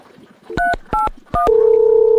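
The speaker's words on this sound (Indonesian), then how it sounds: "urang telepon Mang Sakina ayeuna" A telephone is dialed, sounding three loud, distinct keypad tones in quick succession followed by a steady tone, with no one talking.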